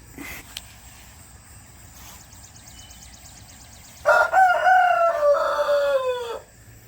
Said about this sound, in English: Gotta let the chickens out.